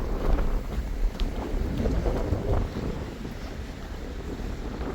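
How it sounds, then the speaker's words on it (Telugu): Strong wind buffets the microphone at a roadside vanlife stop in India, a steady loud roar with rumbling gusts throughout and no talking. "గాలి విపరీతంగా వస్తుంది."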